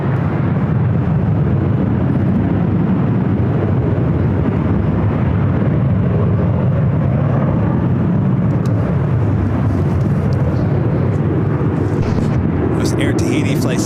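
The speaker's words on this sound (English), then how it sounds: "Air Tahiti Flight 7 coming in from Paris, 787-9 Dreamliner" Air Tahiti Boeing 787-9 Dreamliner arriving from Paris onto runway 24 left at LAX, a loud, steady jet roar that fills the whole stretch with low rumble, and faint voices in the background.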